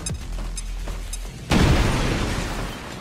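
A grenade goes off in the tactical game XCOM 2, a loud, sudden boom halfway through that rolls out into a crackling, fading rumble over steady background music.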